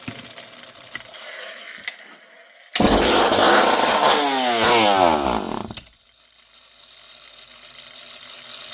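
A Poulan 5200 chainsaw is pull-started once, with a loud, rasping, whirring burst of about three seconds from the cord and engine turning over, set between quieter stretches of faint background noise.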